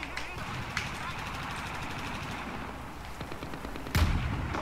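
Rapid gunfire in a Portuguese-language video game match rattles on continuously at moderate level, with a sharper burst near the end, while a player talks over it.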